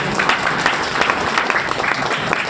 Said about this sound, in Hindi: एक बार जोरदार ताली बाबू के लिए।